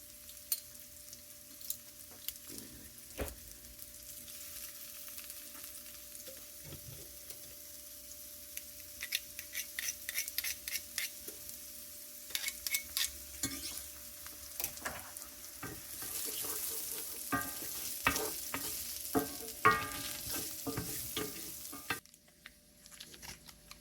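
Minced garlic and tender asparagus fry in a pan, a steady close sizzle with frequent sharp clicks and scrapes of stirring that grow busier toward the end before stopping.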